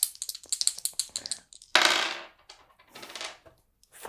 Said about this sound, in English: So now I can roll with 2 dice